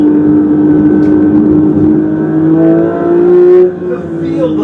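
Porsche 911 GT3 with a flat-six engine and PDK gearbox driving, its steady loud engine drone rising slightly before easing off, with a voice faintly underneath.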